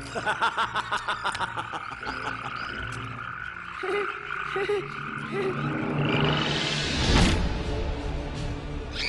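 Cartoon frogs croaking in a 3D animated film of the biblical plague of frogs, a run of repeated rhythmic croaks over music, then a louder swelling roar-like burst near the end.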